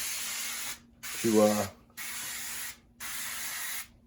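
Cooking spray hisses onto a whole chicken being prepared for beer can cooking on a Weber kettle grill, three loud close bursts of about a second each separated by short pauses, with a brief voice in the middle.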